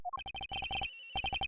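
A video game phone rings with a rapid electronic trill, quick evenly spaced pulses in two bursts separated by a short sustained tone, clear and close with no voices.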